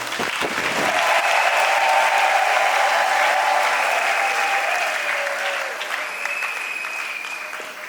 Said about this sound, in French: Vous pouvez les encourager et les applaudir.